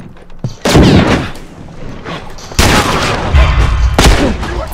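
Gunfire in The Last of Us: three sharp, loud shots about 1.5 seconds apart, each with a booming tail that rings on between blasts.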